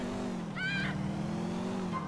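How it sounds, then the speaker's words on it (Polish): A car engine in the video game GTA IV starts up and settles into a steady, fairly loud drone, with a short, bright revving whine rising over it early on. No voices are heard. "Wtedy Niko szybciej odpali samochód."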